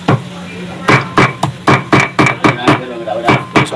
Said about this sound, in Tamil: பொடிசாக கட் பண்ணிட்டு இருக்காங்க.